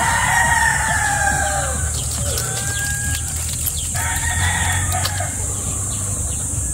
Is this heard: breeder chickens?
yes